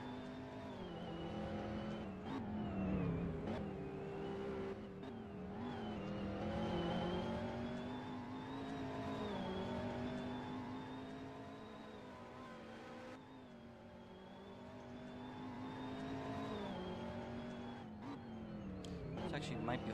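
Race cars circling a track at the 2023 SLC GTI Patriot GP, engines droning and shifting pitch as they accelerate and slide through corners, running steadily at moderate distance under continuous commentary.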